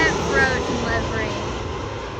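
A WestJet Boeing 777 airliner in the special Frozen livery passes on its landing approach at Vancouver airport, a loud, steady engine roar that fades slightly as it goes by. Someone talks over it.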